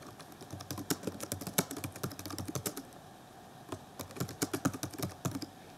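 Quick, steady typing on a computer keyboard, close and clear, with a bursty run of key presses, a short pause, then another flurry of keystrokes.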